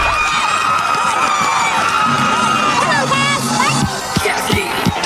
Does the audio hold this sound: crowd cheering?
yes